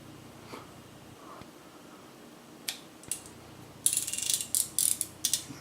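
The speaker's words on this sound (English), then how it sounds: "Put the spool back on." A spool goes back onto a Pflueger Monarch fishing reel, giving a few soft knocks and then a quick burst of sharp, close ratcheting clicks from the reel's mechanism.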